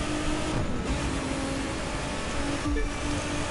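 A car in a drag race in The Crew 2 roars steadily under full throttle, a dense, loud engine and road rush with two brief dips that sound like quick gear shifts.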